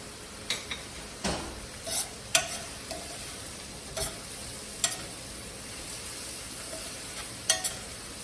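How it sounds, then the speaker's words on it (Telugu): Onions cooking in a pan for a soya chunks and palak curry, a soft low sizzle under occasional scrapes and clinks of a stirring spoon against the pan. "ఉల్లిపాయ బాగా మగ్గాలండి, కాసేపు ఉంచుదాం అలా"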